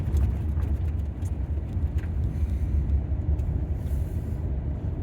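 A car that cost about £2000 pulls away and drives along in D, giving a steady low road and engine rumble close by throughout, with no talk over it.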